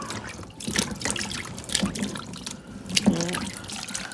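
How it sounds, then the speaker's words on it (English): Jalapeños being rubbed and rinsed by hand in a bowl of cold water, with irregular close splashes, drips and sloshing at moderate loudness. "I'm just gonna rub the jalapenos in this cold water"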